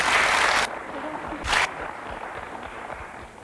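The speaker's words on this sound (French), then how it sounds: "Applaudis." Studio audience applause erupts on a French TV quiz show, a loud dense burst of clapping that cuts off, then a shorter second swell before settling into softer room noise.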